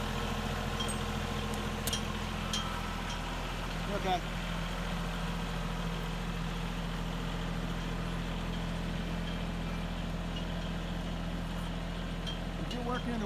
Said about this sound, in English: we got to run the tractor a little bit